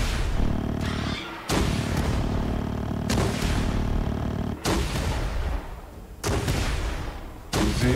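Elite rocket launchers firing in the survival game The Front during a wave against NPC mobs, with repeated loud booming blasts in quick bursts, each followed by brief gaps and rumbling decay.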